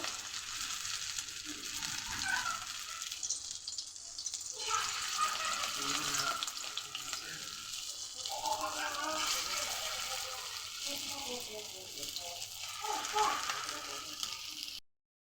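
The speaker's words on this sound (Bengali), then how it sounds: "এদিকে আমার তেলও গরম হয়ে গেছে, আমি ভেজে নেব" Small round dough balls for bora deep-fry in hot oil, giving a steady bubbling sizzle throughout while someone talks over it now and then.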